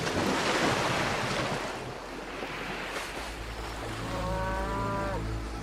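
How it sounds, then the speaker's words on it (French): Cattle low by the seashore as heavy surf and wind roar steadily throughout, with a long drawn-out moo rising near the end. "Autour d'eux, les troupeaux d'Hélios, vaches, brebis, veaux, moutons, sont admirables"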